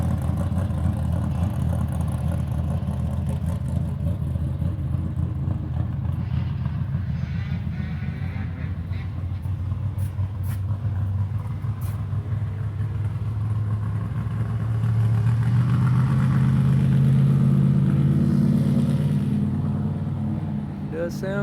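A Suzuki LT80 quad's small engine runs steadily through a ride at the shop, a continuous droning buzz that rises in pitch later as it revs, with people talking over it.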